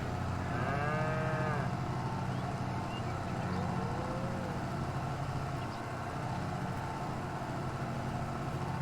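Cow in Farming Simulator 22 lets out a single long moo early on, close and clear, over a steady low engine hum from farm machinery.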